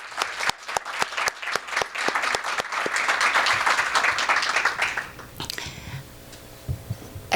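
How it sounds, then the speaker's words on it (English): Audience applause for girls at a youth leadership academy, brisk, fairly close clapping that swells into a dense round, then fades to a few scattered claps and room noise. "I wanted us to give one more round of applause to all of you and your dreams"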